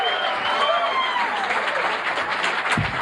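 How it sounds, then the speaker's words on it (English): A comedy-club audience applauds a comedian: steady, dense clapping at full strength for about three seconds, with a few cheers mixed in. "Let's have a nice round of applause."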